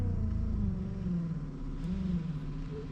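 A Ferrari's electric window motor strains as the glass moves slowly, giving a steady low, droning hum that wavers slightly in pitch and stays close and continuous.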